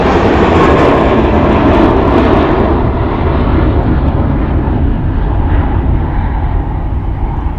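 A large airliner, an A321-class jet, takes off from the runway at Charlotte Douglas Airport. Its loud, steady engine roar is close and dense, and the high whine slowly fades as it climbs away.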